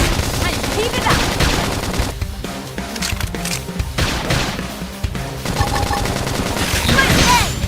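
Rapid bursts of gunfire in the video game Xenoblade Chronicles X, loud sustained automatic fire over battle effects, with a short lull in the middle before the shooting resumes.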